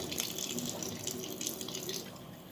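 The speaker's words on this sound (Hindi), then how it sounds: "मेरी मम्मी मुंह धो रही है" Tap water runs steadily into a sink as a woman washes her face at home, a continuous splashing flow with small drips, close by and alone without talk.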